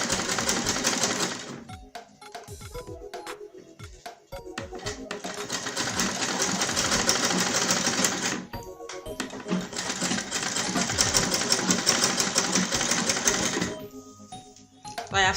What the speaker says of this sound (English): I'm going to stitch to this end, and I'm going to stitch this side as well.